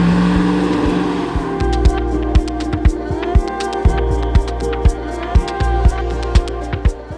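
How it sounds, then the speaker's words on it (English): GM LT1 V8 of 450 horsepower with an 8-speed automatic in a restored Land Rover Defender 110, idling with a deep steady rumble under a rhythmic series of sharp regular clicks or ticks, close and fairly loud, no talk. "This 110 is powered by our 450 horsepower GM LT1 engine with 8-speed"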